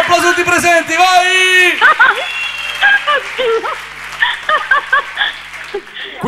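A television studio audience applauds and cheers, with a drawn-out whoop at the start, then a mix of clapping, babble and voices talking over the noise.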